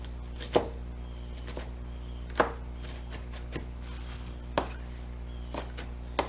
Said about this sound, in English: And I'm chopping my onions.